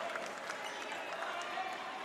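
A basketball crowd reacting during a free throw, a dense wash of cheering and clapping with scattered shouts, steady and fairly loud throughout.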